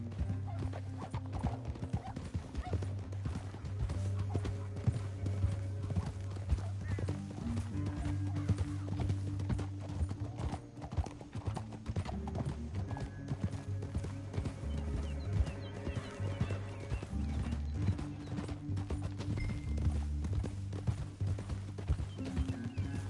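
Horse hooves clip-clopping at a gallop in the Western video game Red Dead Redemption 2, with a horse whinnying, mixed under a steady droning musical score that carries continuously for the whole stretch.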